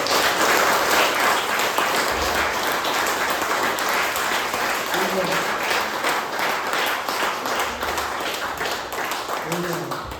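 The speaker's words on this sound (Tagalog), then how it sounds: "ibigay mo yung best na palakpak para sa Panginoon" A church congregation at a Sunday service claps steadily for about ten seconds, a dense, loud wash of hands from start to end with faint voices and a low hum mixed underneath.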